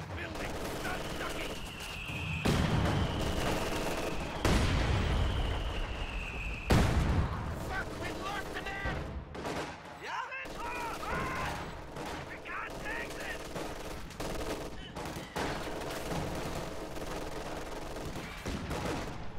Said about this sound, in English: Heavy mortar fire just annihilated those Grens